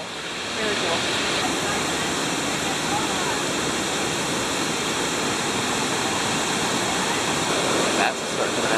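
Loud, continuous roar of a waterfall at Baños, Ecuador, heard up close as a dense, even rush of falling water with some wind buffeting the microphone, near-constant for several seconds.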